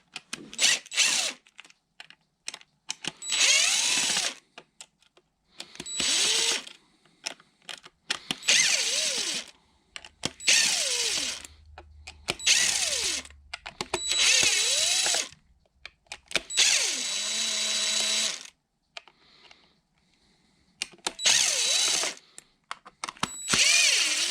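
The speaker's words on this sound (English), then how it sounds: "So I'm going to do it the fast way with my power tool to remove these." A power drill removing screws from a BobsCNC Evolution CNC machine whirs in repeated bursts, starting and stopping roughly a dozen times with pitch rising and falling as each screw spins out, loud and close.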